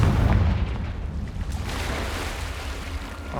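A Confringo fire spell explodes in Hogwarts Legacy, opening with a deep boom that fades into a rumbling, crackling tail, with a lighter burst near the end.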